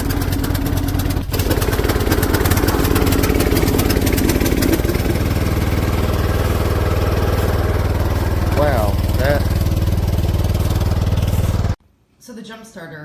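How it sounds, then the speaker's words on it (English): Old lawn tractor engine running at a loud, steady idle with a rough mechanical chug, then cutting out abruptly near the end. "it's an old lawn tractor"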